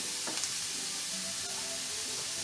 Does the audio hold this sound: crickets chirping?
no